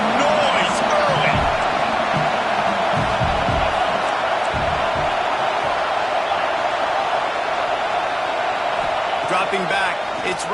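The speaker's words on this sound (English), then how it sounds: "This crowd bringing the energy and noise early." Dense, roaring stadium crowd noise from the video game College Football 26 on PS5 fills the scene continuously, with scattered shouts and thuds beneath a steady wall of cheering.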